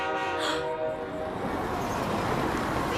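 A cartoon train passes with a sustained horn blast at first, then a broad rumbling roar of wheels and carriages that fills the rest of the moment, loud and close.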